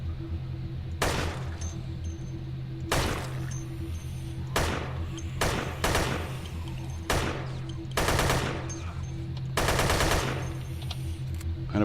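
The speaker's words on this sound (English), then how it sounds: "So as you're shooting, you know, there's good solid feedback." Automatic weapon fire in the shooter video game Dead Effect comes in about seven sharp, loud bursts at irregular intervals over a steady low game hum.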